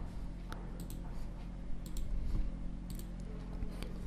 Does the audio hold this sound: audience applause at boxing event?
no